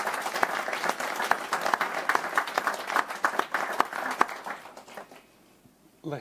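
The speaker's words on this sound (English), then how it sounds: "Give her a big round of applause, please." Audience applause for a speaker at a youth panel event, a dense steady clapping that holds strong for about four seconds, then fades out quickly into near quiet before a brief sound at the end.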